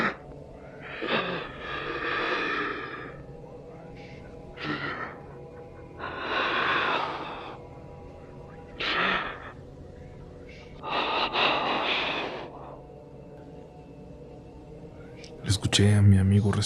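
Heavy, laboured breaths come in uneven bursts, raspy inhales and exhales with pauses between, close and strained, ending in a sharp noise.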